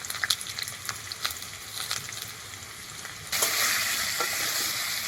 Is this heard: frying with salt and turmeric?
yes